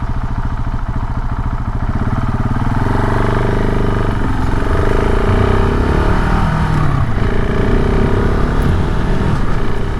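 KTM 690 SMC R supermoto motorcycle from 2021 riding on a commute, its single-cylinder engine droning loudly and continuously with rising and falling revs as the quick shifter clicks through gears.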